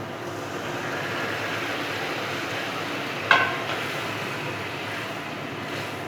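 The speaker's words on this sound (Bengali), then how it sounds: "ডালটা একটু মশলার মধ্যে ফুটবে।" Boiled lentils cooking down in a fried spice mix for Bengali dal, a soft steady hiss of simmering throughout with one brief clink partway through, no voices.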